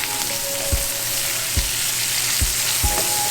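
Capers and sun-dried tomatoes crisp in a frying pan, a steady bright sizzle running throughout, punctuated by four low thumps as the pan or spoon knocks at regular intervals.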